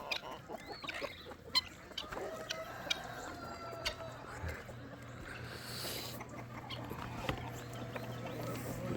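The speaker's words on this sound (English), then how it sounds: "All my chickens there." Chickens cluck and chatter close by at feeding time, with scattered squawks and a rooster-like call amid a busy outdoor background.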